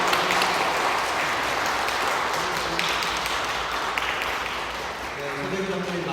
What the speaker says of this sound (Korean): 우리 다시 한번 남신도회를 박수로 격려하도록 하겠습니다.